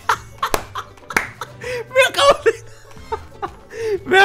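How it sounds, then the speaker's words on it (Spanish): Dog characters in Fortnite applaud, giving quick sharp claps scattered among chuckling and laughing sounds, loud and close in short bursts. "Mira cómo aplauden mis perritos."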